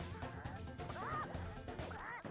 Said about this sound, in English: nothing says supernatural voodoo level like hitting a bunch of chickens while dodging a bunch of suicide bomber roosters